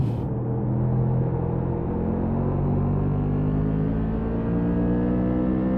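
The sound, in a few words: racing car engine revving in a racing video game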